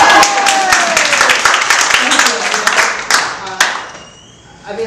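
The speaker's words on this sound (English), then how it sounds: "And you can clap at that." Audience applause at a talk, a dense wash of clapping with sharp individual claps, heard alongside speech and thinning out toward the end.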